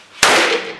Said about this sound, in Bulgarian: По реакцията на хората може да съдите за силата на изстрелите.